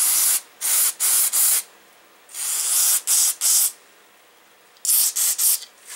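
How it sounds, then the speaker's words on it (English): Carb cleaner sprays into the check valve area of a Coleman product in short, loud, close hissing bursts, mostly in quick clusters of two or three, with one longer spray among them. "I have some regular carb cleaner. I'm going to just kind of squirt in here."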